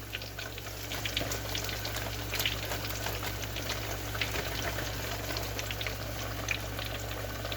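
Battered fish sizzles steadily in hot frying oil, a dense continuous crackle and hiss with scattered pops, close and fairly loud, with no voices.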